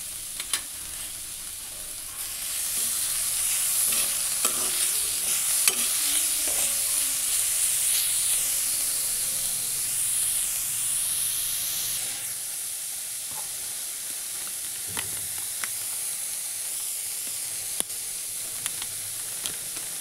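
Carrots frying in a pan: a steady, close hiss and sizzle that swells after a couple of seconds and later eases slightly, with occasional faint clicks of a utensil and no talking.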